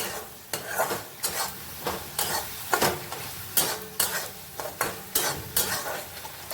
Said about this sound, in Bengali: এবার একটু এটা কষাতে হবে আঁচটা কমিয়ে